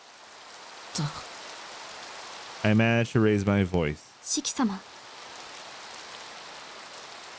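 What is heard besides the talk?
quiet rain drizzle, from video game Tsukihime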